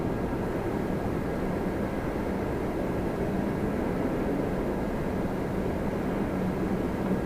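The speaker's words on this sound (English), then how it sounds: "WestJet 710 coming in from Vancouver" A WestJet airliner arriving at Toronto Pearson from Vancouver gives off a steady, broad jet roar that holds constant and fairly loud throughout, with no voices.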